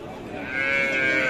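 A single loud, drawn-out moo from a cow close by at a busy cattle market at Raniganj haat, swelling in strength as it goes on, with no talk over it.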